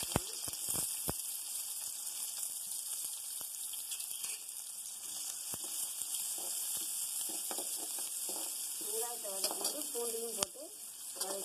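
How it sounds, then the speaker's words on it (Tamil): Mustard seeds, fennel, cinnamon and cloves sizzle and crackle in four to five spoons of hot oil for a tempering. The frying hiss stays loud and constant, with scattered sharp pops and a brief stirring scrape near the end. "ஊற்றிட்டு எண்ணெய் காஞ்ச உடனே கடுகு சோம்பு பட்டை லவங்கம் போட்டு தாளிக்க போகிறேன்."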